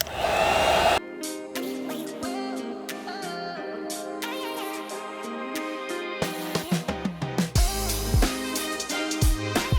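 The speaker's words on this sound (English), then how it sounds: "adding heat all around the edge and everywhere on the film" A heat gun blows hot air across chrome delete film on a Lexus RX wheel, giving a steady, close, continuous whooshing roar under background music, with no talking.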